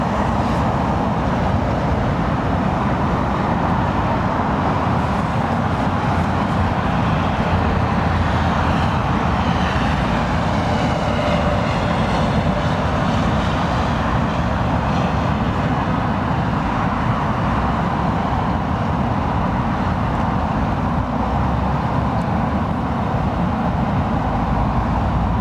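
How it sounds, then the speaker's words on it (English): Heavy trucks and road traffic rumble steadily near London Heathrow Airport, a loud, continuous broadband roar with no pauses for the whole stretch. "sorry about all the trucks. Lots of noise, folks."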